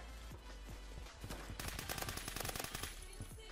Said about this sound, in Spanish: No se dan cuenta que les estoy disparando